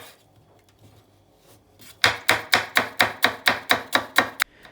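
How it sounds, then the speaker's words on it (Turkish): A knife chops ingredients for a pasta dish on a board, about ten sharp, evenly spaced close-up strikes in quick rhythm after a quiet start, with no talking. "ilk önce malzemeleri doğramakla başlayacağım"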